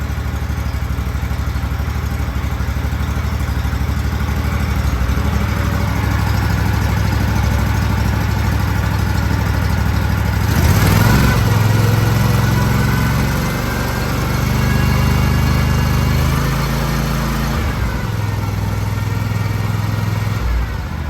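A 22-year-old Walker MTGHS riding mower, its engine running steadily and loud close by, a constant drone with a brief surge in pitch partway through, with no talking.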